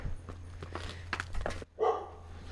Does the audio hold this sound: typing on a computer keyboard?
no